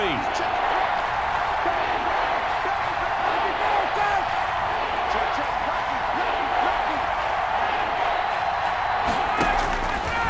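A stadium crowd roars on third down at a Panthers versus Falcons football game, a dense, steady din that stays loud for the whole stretch.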